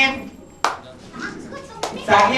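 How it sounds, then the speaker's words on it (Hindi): Audience applause at a New Year's Eve quiz event, starting with a sharp burst and swelling again near the end, with a voice and chatter mixed in between. "राजा के लिए सबसे बड़ा ताली बजाइए"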